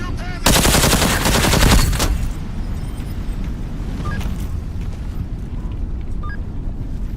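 Machine gun fire in the video game Into the Radius 2, a loud close burst of rapid rounds lasting about a second and a half, then fading into a rumbling wash with a few faint clicks.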